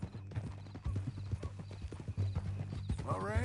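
A horse in the Red Dead video game walks with clear, rhythmic hoof clip-clops, close and moderately loud, and ends with a rising whinny, while a voice talks over the hoofbeats.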